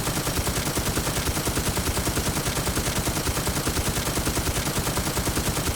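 An M134 minigun firing in the game Infestation, a continuous rapid rattle of shots at a very fast even rate, loud and sustained with no pauses.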